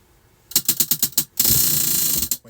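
A prize wheel spun by hand for a crochet stitch game ticks loudly and close: a few separate clicks, then a fast, steady rattle of its pointer catching the pegs before it stops.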